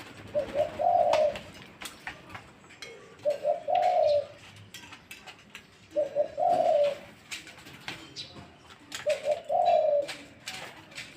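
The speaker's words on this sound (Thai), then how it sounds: "เรียกแบบนี้ทั้งวันเลยครับเก็บปีกทั้งวันเลยช่วงนี้" An excited pet dove calls over and over, four evenly spaced rolling coos, each about a second long, close and clear, with faint rustling between them.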